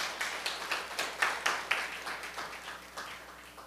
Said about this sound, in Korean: 우리 하나님께 감사 영광의 박수를 드리도록 하겠습니다